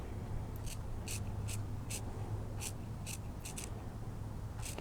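Scissors cut around a circle of fabric for a holiday bench pillow cover, a series of short crisp snips in quick irregular bursts, close up over a steady background hiss.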